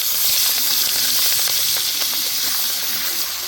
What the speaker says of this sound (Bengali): ওই তেলেই চিংড়ি মাছটা আমি ভেজে নিব দিয়ে দিব তেলের মধ্যে চিংড়ি মাছটা